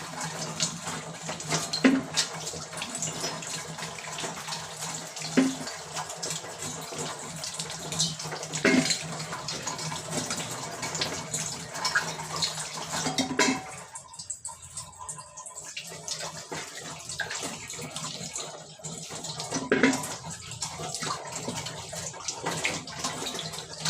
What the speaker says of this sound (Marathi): पाणी टाकून घेते थोडंसं.